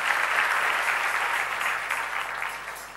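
Audience applause at a church gathering, a dense, continuous wash of many hands clapping at moderate volume, steady across the whole stretch and tapering slightly at the end, with no talk over it.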